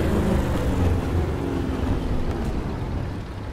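A Panzer IV tank engine in War Thunder rumbles as it approaches, a dense, steady low drone with broad noisy texture that stays loud throughout, with no talking.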